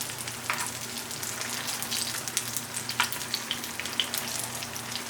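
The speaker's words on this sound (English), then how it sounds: "That is what I wanted though. A nice sear on the outside." Vegan meatballs sear in an oiled pan with a close, steady sizzle and scattered sharp pops and spits, no voices over it.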